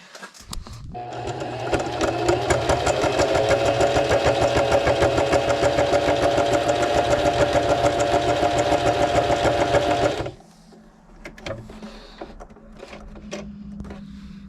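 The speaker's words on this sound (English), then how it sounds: "These sewing machines, they need to have better lighting or something." A sewing machine stitches a military surplus canteen pouch, a loud, steady mechanical whirr with a rapid needle rhythm running for about ten seconds before stopping, followed by quieter handling clicks.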